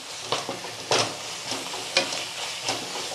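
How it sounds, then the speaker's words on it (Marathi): Masala spices sautéed in a pan for a potato bhaji, with a steady close sizzle and several scraping stirs at uneven intervals, no voices. "मसाला 1-2 मिनिटं असाच परतून घ्यायचा आहे।"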